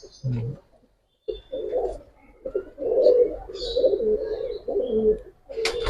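Old-breed Giribaz pigeons in a loft give low, bubbling coos in several bursts with short pauses, close by, with some human talk mixed in among the calls.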